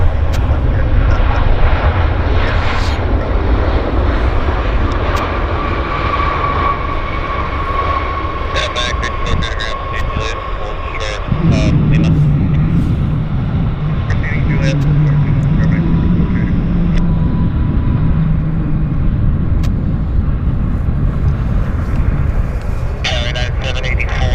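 A passenger airplane at Vancouver airport, with a loud continuous engine roar and rumble close by for the whole stretch, shifting in pitch partway through, while people talk over it.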